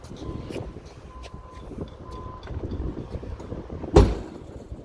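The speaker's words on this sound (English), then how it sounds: "I will use safe work methods to lower my hood" The hood of a truck tractor is lowered during a pre-trip inspection and shuts with one sharp heavy thud near the end, after quiet outdoor rustling with wind.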